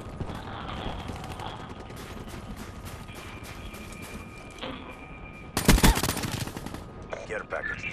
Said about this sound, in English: Who are you guys shooting at?